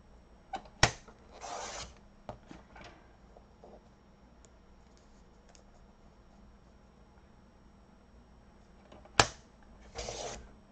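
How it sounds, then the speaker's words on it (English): Scissors cut a couple of fabric or paper strips for a junk journal in a few short snipping bursts with sharp clicks, separated by a quiet stretch. "And I'm just going to cut a couple of strips off of this."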